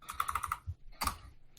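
Fast keyboard typing during an online tabletop game session: a quick run of crisp key clicks, then a short pause and another small burst, close and soft.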